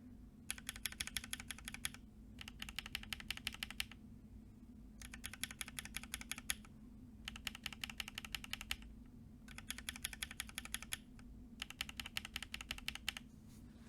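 Mechanical keyboard switches, some lubed and some stock, are typed in repeated bursts of rapid clicky keystrokes separated by short pauses, quiet and close over a low steady hum.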